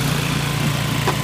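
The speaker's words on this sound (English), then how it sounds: "If you look at what he's got going on in the front of the blower, he can get the snow to pile up just about anywhere you want it to" A snow blower clearing snow and throwing it in an arc, its engine droning loud, close and continuous with a steady low throb.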